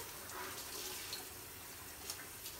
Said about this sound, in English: So I'm going to use warm water to just rinse out our tank, get the last of that debris out of there.